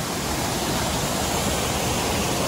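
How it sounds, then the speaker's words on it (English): Constant broadband roar of a waterfall at the Seven Sisters Waterfalls, Grenada, loud and unbroken, with no voices. "So this is one of the waterfalls."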